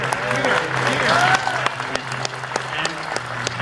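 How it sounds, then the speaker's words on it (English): Audience applause follows a guitar press preview at a music trade show, a loud burst of clapping that thins after a second into scattered, fading claps. "a big round of applause for Peter"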